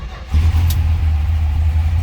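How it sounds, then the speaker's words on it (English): A 1964 Dodge Polara 500 two-door hardtop with a 426 Max Wedge V8 cranks briefly and fires right up, settling into a loud, deep, steady idle close by. "let's go ahead and fire this up so you can see it run"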